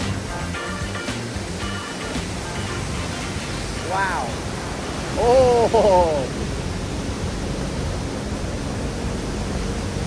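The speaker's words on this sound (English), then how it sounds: "one of the biggest waterfalls on planet Earth" Steady broadband roar of Iguazu Falls in Argentina, one of the world's largest waterfalls, close and loud throughout, with a voice briefly exclaiming over the rushing water.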